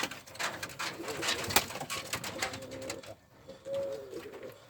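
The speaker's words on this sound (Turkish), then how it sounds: "Kuşlarımız ödemiş kelebeğidir" Ödemiş Kelebeği pigeons from a twelve-year breeding loft in Kiraz, İzmir, coo in soft, repeated low calls close by, set against a busy backdrop of ambient noise with a brief quieter gap near the end.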